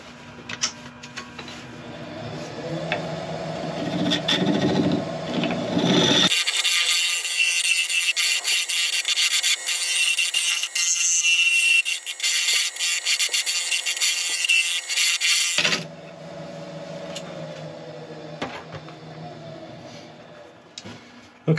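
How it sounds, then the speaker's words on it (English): A scraper works a wooden burl bowl spinning on a woodturning lathe, giving a continuous harsh rasping scrape that runs for most of the stretch, close and loud, between quieter lathe hum at the start and end. "So I think it's time to put a scraper in here to even things out"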